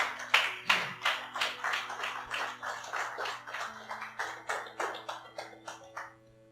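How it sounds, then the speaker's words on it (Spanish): A church congregation claps in a steady, even rhythm during a Spanish-language sermon, each clap ringing clearly in a reverberant hall, with a held musical tone underneath. "Da un aplauso al Señor esta mañana."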